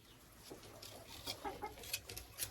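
Chickens in a coop clucking softly, a few short, faint clucks and scratchy calls scattered over low background noise.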